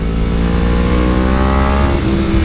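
A Yamaha R1M sport motorcycle engine accelerating hard, a loud, close, continuous whine climbing in pitch with a brief dip near the end as the revs shift.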